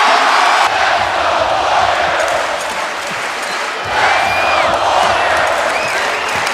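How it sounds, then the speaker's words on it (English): Basketball arena crowd at a Warriors game against the Raptors, roaring and cheering continuously in a dense, loud wash of voices, with a brief dip midway before surging again; an announcer speaks over it. "This is a crowd that has been on their feet now for about 4 minutes"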